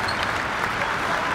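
Basketball crowd in Binyan, Laguna applauding during an Alab Pilipinas vs Singapore Slingers ASEAN league game, a brief dense burst of clapping and cheering from a large audience.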